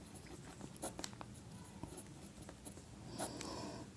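Pen writing out a Class 10 maths solution, faint scratching strokes and taps in an irregular rhythm against a quiet room background, with no talking.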